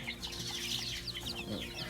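Week-old chicks on a small Thai poultry farm give a dense, continuous chorus of high, thin peeps, fairly close and steady throughout.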